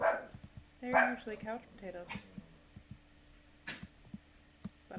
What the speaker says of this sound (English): I don't know if you can hear my dogs in the background.